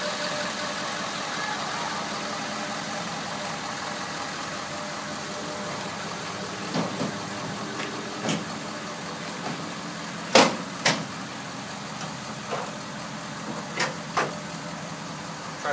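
Ford F-250 Super Duty with a 6.7 Powerstroke diesel idling with the hood up, a faint, steady low rumble broken by a few brief clicks and knocks nearby.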